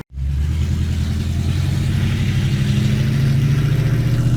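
A 1973 Plymouth Duster engine with open headers idles loud and close, a steady deep rumble with a slightly uneven beat that holds for the whole stretch.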